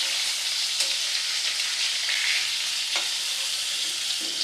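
Rui fish pieces fry in oil, a loud, steady, close sizzling hiss with occasional sharper crackles and pops, with no voices.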